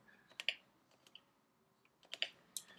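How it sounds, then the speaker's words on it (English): Keys clack on a vintage Color Computer keyboard in two short bursts of a few presses each, crisp and close, with a pause between. "we're just typing out, making sure all the letters work."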